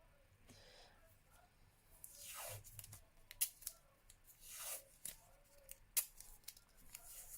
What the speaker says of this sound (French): Je vais pas découper très droit,